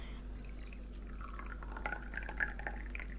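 Water trickles and drips into a homemade craft mixture during Advent calendar decorating at home, a faint, soft liquid pouring sound lasting a few seconds with low background hum and no talking.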